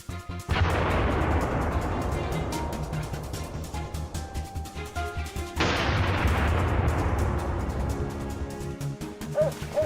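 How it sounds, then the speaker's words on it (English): Two loud, sharp gunshots at wild boars during a hunt near a wheat harvest, about five seconds apart, each followed by a long rolling echo that fades slowly. "A quick shot was fired"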